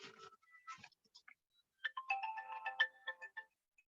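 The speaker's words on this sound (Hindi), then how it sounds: "सॉरी दोस्तों, एक फ़ोन आ गया था।" A phone ringtone plays faintly, a melodic series of bright electronic tones in a short, uneven tune with brief gaps, alone without talk.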